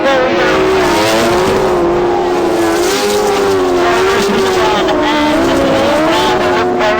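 Sidecar outfits racing on a grasstrack at a British Masters meeting, their engines making a loud, continuous, wavering drone close by as they hold high revs through the bends, with a commentator faintly audible beneath.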